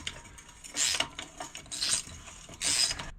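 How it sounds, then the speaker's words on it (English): A ratchet driving a 54mm hub socket to tighten a hub nut, three bursts of quick metallic clicking a second or so apart, close and moderately loud, no talking. "So I've just gone and rammed the first nut on super tight."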